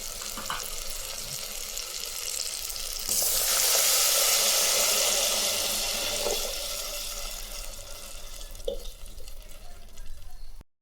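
Steady running water with a sloshing, rinsing rush that swells midway as broken rice is washed in a pot, with faint clinks and no talk.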